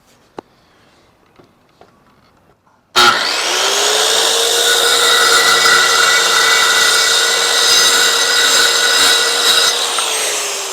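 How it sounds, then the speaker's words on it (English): Power saw starting abruptly after a quiet stretch and plunging into wood, a loud steady high whine that holds for the rest of the clip. "what this next cut is it's called a plunge cut"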